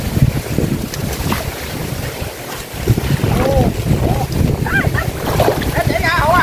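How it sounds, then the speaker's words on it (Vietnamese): Strong wind blows outdoors by the water during a small-fish net-hauling trip, roaring and buffeting the microphone continuously, with voices faintly audible beneath the gusts. "Gió quá gió rồi."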